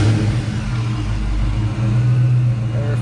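Supercharged Fox body Mustang engine on a dyno, running loud and close with a steady rumble and slight revving; a voice may be faintly present.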